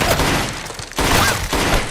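Rapid gunfire from a dystopian action film, dense volleys of shots filling two seconds with a brief gap near the middle, loud and continuous with no voices.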